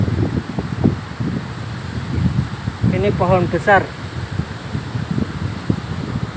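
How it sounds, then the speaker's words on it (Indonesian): Strong wind roars steadily around a large fallen tree that has come down on big power lines beside a road in Pesisir Barat, Lampung, with gusty rumbling and rustling throughout as someone talks over it. "Anginnya kencang banget,"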